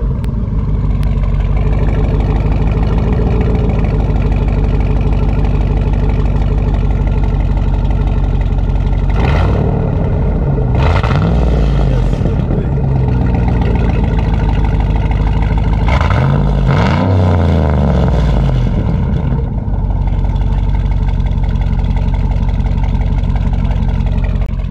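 A 2008 Cadillac Escalade ESV with a 6.2-litre V8 rumbles loud and close in a deep, steady idle, with two throaty revs flaring up midway before it settles back to a low burble.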